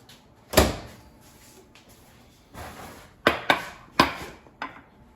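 Hot cooked red potatoes lifted out of a microwave in a home kitchen, heard as several sharp clacks and knocks of a dish and door, one strong thud followed by a quick cluster of three close, crisp bangs.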